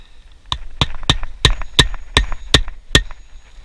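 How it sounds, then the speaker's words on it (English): Eight sharp hammer blows drive nails into roof shingles during a shingle repair, falling in a quick steady rhythm about a third of a second apart, close and loud, with no voices. "put these nails here, take note of where you should be nailing your shingles"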